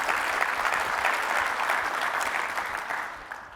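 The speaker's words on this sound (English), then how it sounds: "let's give Orgill a big round of applause for an incredible milestone" A symposium audience claps steadily for Orgill, a dense, even wash of many hands at close range that tapers slightly toward the end.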